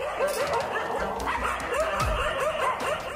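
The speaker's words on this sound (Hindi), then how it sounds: "यहाँ कुत्तों ने ही मिलकर एक तेंदुए को घेर लिया है।" Several dogs bark and yip repeatedly while surrounding a leopard, a steady run of overlapping barks with whimpering, fairly close and loud throughout.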